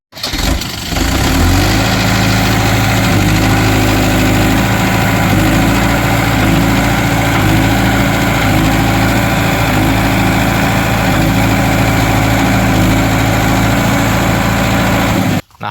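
A tractor engine runs steadily while the tractor sits stuck in a muddy seedbed field, a loud, close, continuous chugging idle that starts abruptly and stops near the end.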